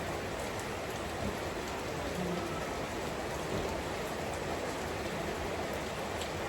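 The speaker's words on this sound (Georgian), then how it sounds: "ულამაზესად წვიმით." Steady rain falls and patters on surfaces all around, a dense even hiss that holds without pause, close and fairly loud, with no voices.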